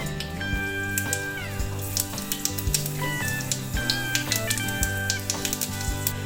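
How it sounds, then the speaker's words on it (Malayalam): Mustard seeds pop and crackle in about two spoons of hot oil in a pan for a Kerala fish curry, with scattered sharp little pops over a steady sizzle and background music. "എണ്ണ ചൂടായതിനു ശേഷം ഇതിലേക്ക് കടുക് ഇട്ട് പൊട്ടിക്കുക."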